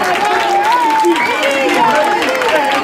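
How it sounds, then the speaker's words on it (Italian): Crowd applause and cheering at a school start-of-year party with a DJ, a dense loud wash of clapping with shouts and voices mixed in, heard in a lively indoor or courtyard setting. "Possiamo fare anche un applauso a Don Gino che ci sta salutando"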